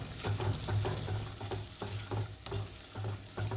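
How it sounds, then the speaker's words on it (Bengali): Baby corn chili with red chili and soy sauce being stirred in a hot pan, a steady sizzle broken by repeated scraping strokes of a spoon, close and fairly loud, with no talking. "নাড়িয়ে নেব"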